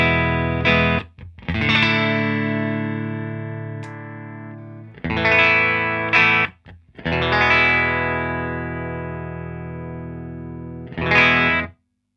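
A Fender Stratocaster played clean and split into two Marshall-type amps rings out in sustained chords with long decays, several separate strums and gaps between.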